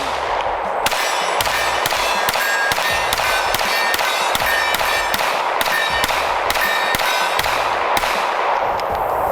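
A Canik pistol in Cyber Blue is fired at a target 15 yards out: a fast, even string of about fifteen sharp, loud reports, each with a brief metallic ring.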